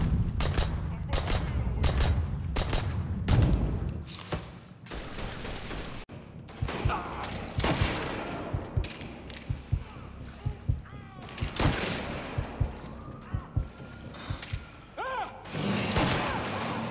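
Gunfire in a shooter video game, with repeated sharp shots and bursts, some in rapid clusters, spread across the whole stretch alongside thuds and booms, fairly close and loud.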